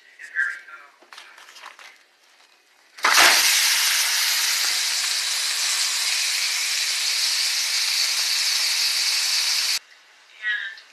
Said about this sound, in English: I raised the heat on the skillet, and I'm going to throw in the beef.